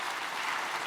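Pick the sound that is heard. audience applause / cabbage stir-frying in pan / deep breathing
audience applause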